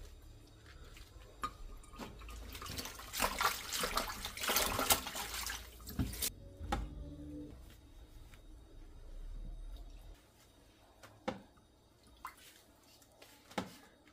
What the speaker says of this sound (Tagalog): tapos na tayong maghugas ng ating cabbage